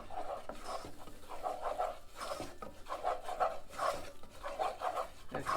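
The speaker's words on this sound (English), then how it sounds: "and now you keep stirring it." Flour is stirred into melted butter in a pan with a spoon, giving a soft, rhythmic scraping and rubbing at close range. The strokes repeat continuously at a steady pace with no talking.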